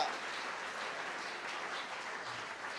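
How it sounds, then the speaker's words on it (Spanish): Church congregation applauding during a Spanish-language sermon, a dense steady wash of many hands clapping at moderate distance, sustained evenly for a few seconds with no voices above it. "Dele un aplauso al Señor si usted lo cree en esta hora"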